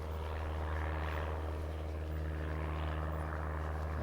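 A propeller airplane drones overhead near an airport, a steady low engine hum holding throughout at moderate distance with no speech.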